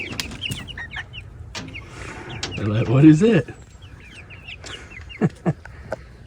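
Chickens cluck and squawk in short bursts, close by, while a person talks over them as the chickens are offered a whole watermelon.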